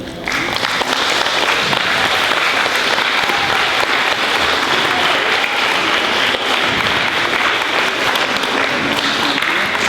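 Loud, sustained applause from a large crowd at a school fifth-grade recognition ceremony, dense and even clapping that holds at full strength throughout.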